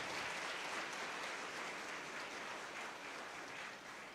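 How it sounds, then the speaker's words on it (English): Sustained applause from an audience of students and guests honoring teachers and staff at a college welcoming event; steady dense clapping throughout, moderately distant and even. "Let's give them also a big round of applause."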